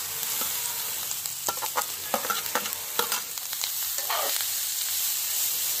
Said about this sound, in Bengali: দিয়ে খানিকক্ষণ কিন্তু হালকা হাতে ভেজে নিতে হবে এই গাজরগুলোকে